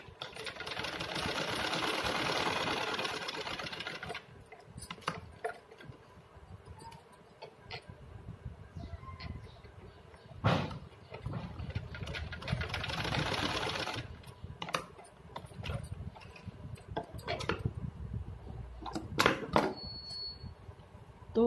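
A sewing machine stitches seams on a small cotton dress, running in bursts of steady whirring with pauses and handling noises between runs.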